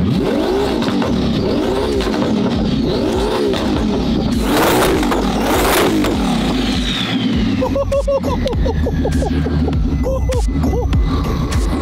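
A Ferrari F12 with a twin-turbo engine revs loudly and up close, its deep roar swelling and falling through repeated throttle blips, with a sharp surge midway and fast, pulsing revs near the end.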